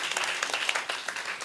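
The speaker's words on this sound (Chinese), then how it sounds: "请掌声欢迎" Audience clapping at a technical conference session as a speaker is welcomed to the stage, a brief burst of dense, close applause from a room full of people.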